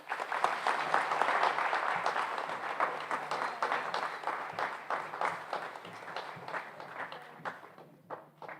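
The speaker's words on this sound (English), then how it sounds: "one more round of applause" Audience applause fills a high school senior awards night, a dense burst of many hands clapping that stays steady and then slowly thins toward the end, with no voices over it.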